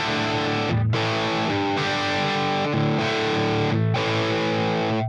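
Electric guitar, a Schecter BlackJack, played through a Valeton GP200LT modelling a Marshall JMP50 amp and cabinet, gives thick, distorted rock chords that ring and sustain loudly, with a few brief gaps between strummed changes.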